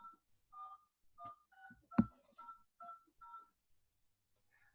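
A run of DTMF telephone keypad tones, about eight short evenly spaced beeps with one louder thump in the middle, heard alone and close during a Zoom call.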